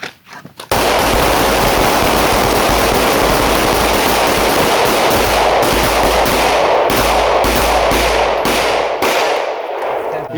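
Rapid pistol gunfire rings out during a shooting drill at a fighting pistol class in Washington, a loud, nearly continuous volley of overlapping shots from several shooters that thins into spaced, separate reports toward the end.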